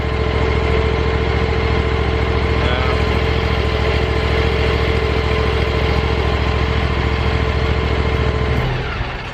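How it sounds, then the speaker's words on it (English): A Ferris ISX2200 zero-turn lawnmower engine idles at its lowest setting, a loud, steady low rumble that holds evenly and then drops off near the end. "the engine where it's currently at idle. It's at the lowest setting. It's completely idle."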